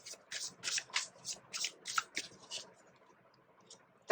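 Tarot cards shuffled by hand in a series of about eight quick, close riffling flicks, followed by a pause and a sharp card snap at the end; no talking.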